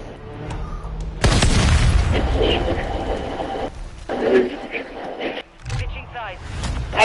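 A planted bomb detonates in a ranked Call of Duty match: one sudden, loud boom followed by a long rumbling tail, with players' voices talking over the aftermath.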